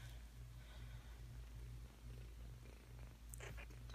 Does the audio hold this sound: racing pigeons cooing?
no